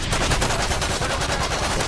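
Akimbo FMG9 submachine guns in Modern Warfare 3 rattle in a rapid, continuous burst of gunfire, loud and close with a fast regular rhythm and no talk over it.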